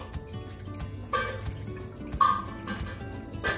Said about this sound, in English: So you just rub it, wash it real quick, and then drain the water.